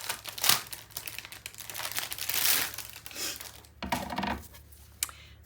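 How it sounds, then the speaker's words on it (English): Packaging or plastic wrap crinkles and crackles in repeated bursts, close up and loud, while crafting a Graphic 45 Autumn Greetings 8x8 scrapbook album; no one talks. "Excuse me while I make some crinkly noises."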